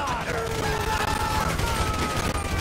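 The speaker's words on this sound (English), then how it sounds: "So I guess we're shooting our way out of here!" Gunfire in the video game GTA 5 during a heist escape, a dense, continuous fusillade of rapid shots layered under game music and tonal effects, loud throughout with no pauses.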